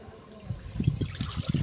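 Water poured into a pot of chicken cooking outdoors on a friend's farm, heard as a faint, uneven trickle and splash in soft bursts, close but quiet.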